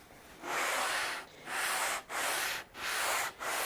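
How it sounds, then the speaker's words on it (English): A guitar body joint is hand-sanded with 220 grit sandpaper in four long, even rubbing strokes, close and steady, each separated by a short pause. "the 220 side and just sand this joint"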